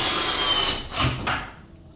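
A power driver runs a long lag bolt into wood on a Tuff Shed canister door. One loud, close whirring burst grinds for about a second, gives a brief surge, and then winds down to quiet.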